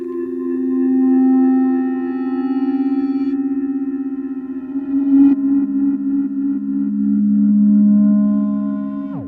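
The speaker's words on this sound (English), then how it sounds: "I made this patch and reversed it, tried to make it cool, but honestly it was a bit bland." A reversed synth patch made on the OP-1 plays alone as smooth, sustained tones that slowly swell and fade, with one pitch shift midway and a sharp cutoff at the end.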